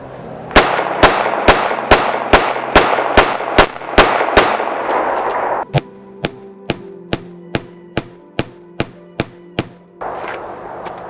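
Ten sharp, loud .45 ACP pistol shots from an FNX-45 Tactical ring out at a steady pace, the first volley echoing with heavier reverberation, the rest crisper with a brief ringing tail between them, outdoors.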